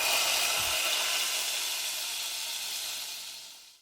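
Steady sizzling of dried mint frying in hot olive oil, a bright continuous hiss that slowly fades.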